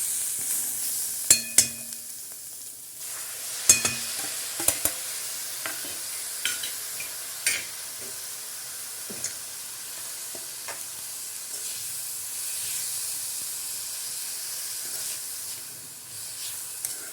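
Sprouted moth beans tipped into a hot pan with turmeric paste and stirred, giving a soft sizzle and hiss with sharp spoon clacks against the pan, loudest near the start and thinning to a quiet steady fry.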